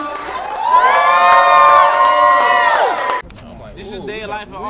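A concert crowd cheers, shouts and whoops loudly for about three seconds, then drops abruptly to a quieter murmur of voices and talk.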